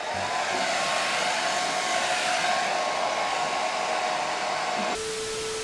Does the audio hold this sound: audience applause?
no